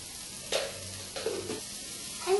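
Okra, tomatoes and vegetables with red chili, turmeric and coriander powders sauteing in a pan, giving a soft steady sizzle with a few brief louder stirring scrapes, no voices.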